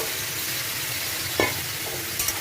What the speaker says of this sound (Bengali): গোটা রসুন আর বড় বড় করে পেঁয়াজ একটু ভালো করে ভেজে নেব